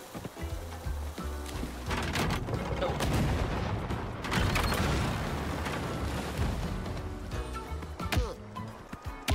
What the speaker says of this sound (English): They just launched a bunch of bombs.